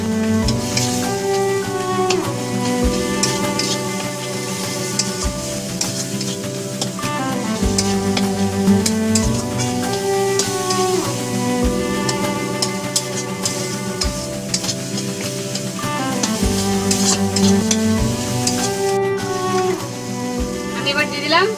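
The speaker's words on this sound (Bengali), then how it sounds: "এই মশলাটা আমি একটুক্ষণ ভেজে নেব।" A spice paste sizzles steadily in a pan during preparation of a rui fish curry with mustard. The frying hiss is continuous and fairly loud but sits under a repeating musical background.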